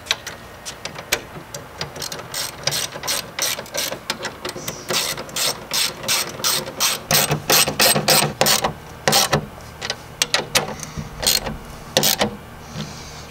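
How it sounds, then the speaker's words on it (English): A ratchet wrench tightens bolts on steel side steps fitted to a Jeep Wrangler JK, giving loud, close, rapid clicking in repeated bursts with brief pauses between strokes. "we can go ahead and start tightening these down with our wrench."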